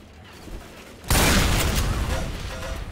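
A sudden loud blast erupts about a second in, followed by sustained crackling boom and rumble, as objects are blown up in the zombie shooter Left 4 Dead 2.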